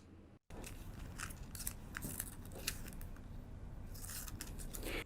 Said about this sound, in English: I can cut the pattern now.